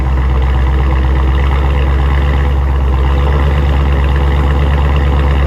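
A 2016 Dodge Challenger 392 Hemi V8 Shaker Edition with dual exhaust and mid muffler delete idles loud and close, a deep steady rumbling burble with no pauses.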